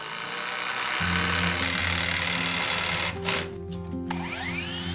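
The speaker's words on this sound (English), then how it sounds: "firmly screw in the joists." A power screwdriver drives screws into floor joists in a 40-year-old house, its steady motor whine running continuously for several seconds with a brief pause and a higher-pitched spin near the end.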